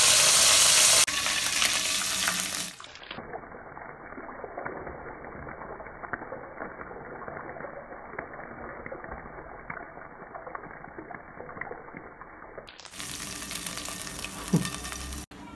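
Ginger sizzles and browns in hot oil for haleem, a loud crackling burst at first that settles into a softer, steady frying hiss before swelling again near the end.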